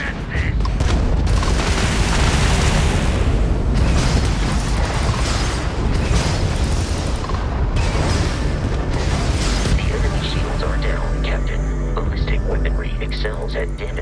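A homing missile launches and detonates in the space game Starfield, heavy booming blasts and rumbling bursts layered over constant loud engine and combat noise, with a voice talking over part of it.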